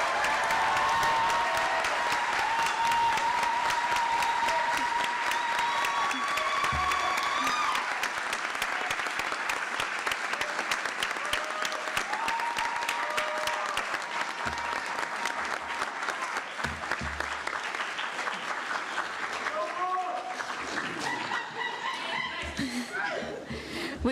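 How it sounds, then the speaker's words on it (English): A sustained round of applause for nursing graduates at a university pinning ceremony, dense crowd clapping heard from a distance with scattered cheers and faint voices, thinning slightly toward the end. "Please join me in congratulating our graduates with a round of applause."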